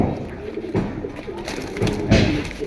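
Pigeons for sale at a market stall coo in soft, repeated throaty bursts, fairly close, with bits of background bustle between the calls.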